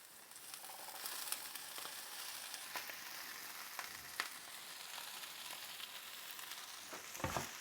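Butter melting and frying with a large batch of greens in a pan at a backyard breakfast cookout, giving a steady broadband sizzle that continues without a break, with a few faint clicks and a brief low thump near the end.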